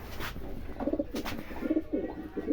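A male racing pigeon, resting and in molt, coos in soft repeated low throbbing phrases close by, with no talking over it.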